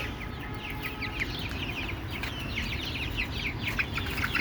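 Chickens kept on a rooftop cluck and chirp continuously, a busy overlapping flock chatter at steady loudness with no talking.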